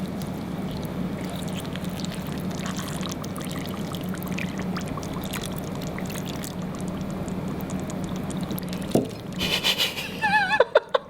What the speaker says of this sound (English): All we need to do is take this water, 250 mils of water, because that's the volume of 1 Red Bull can.